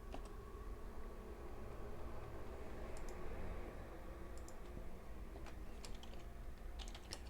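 Someone types steadily on a computer keyboard while coding, producing rapid, close clicks in bursts over a low background hum.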